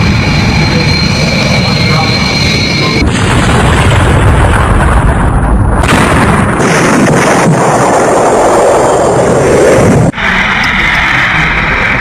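A passenger plane crashes in Ahmedabad just after takeoff and erupts into a fireball, giving a loud, sustained roar and rumble with broadband blasts and wind-buffeted noise that hold steady for most of the span before dropping off abruptly.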